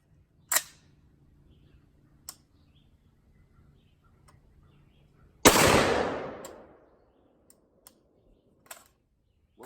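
A single sharp, loud 458 SOCOM AR-15 shot with a decaying boom, surrounded by a few sparse metallic clicks and clacks of the action cycling, otherwise quiet outdoors.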